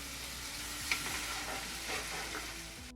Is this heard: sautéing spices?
yes